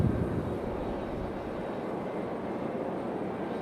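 An Air Canada airliner is pushed back at Raleigh-Durham International Airport, giving a steady, loud broadband engine and ground-equipment roar that holds evenly throughout with no voices.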